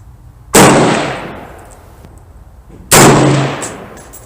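Two loud, sharp rifle shots from a 6.5 Creedmoor AR-10 at an outdoor range, each a sudden blast with a long decaying echo, about two seconds apart, with no talking.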